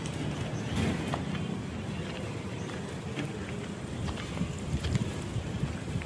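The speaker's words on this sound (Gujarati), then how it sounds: "આજે, પવન સારો છે." Steady outdoor wind rushes and buffets the microphone throughout, a continuous broad hiss with soft gusty swells and no talking.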